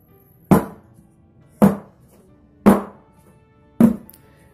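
A cake pan filled with eggless vanilla batter is tapped firmly on a hard surface four times at an even pace, each knock a close, resonant thud that fades quickly.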